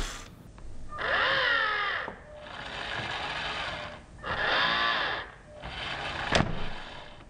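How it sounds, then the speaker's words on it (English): LEGO candy catapult mechanism with a lever and a release shuttle, giving repeated whirring, ratcheting motor bursts in a quiet room, then a sharp snap as it fires. "the shuttle, which holds the catapult down while the lever retracts and then releases the catapult to fire it"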